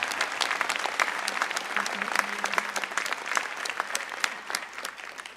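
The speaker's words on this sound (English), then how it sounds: "Do you want to clap?" Steady applause from a large convocation audience at a George Brown College graduation ceremony, dense continuous clapping throughout with no talk over it.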